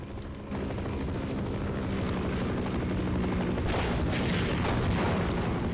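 Steady helicopter rotor drone in the video game Half-Life, with a low thumping pulse, fairly loud and continuous, joined by a few sharp bursts near the end.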